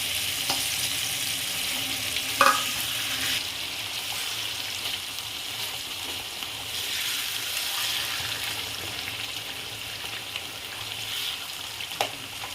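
Gongura leaves and coriander cooking in oil in a pan, a steady soft frying hiss throughout with a few faint clinks and stirring scrapes, no talking.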